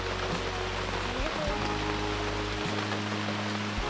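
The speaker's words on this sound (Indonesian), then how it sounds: "Hujan." Rain patters steadily on a surface at a campsite, with a low engine-like hum underneath and a brief tonal sound partway through.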